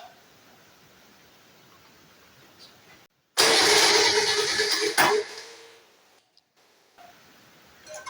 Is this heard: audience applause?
no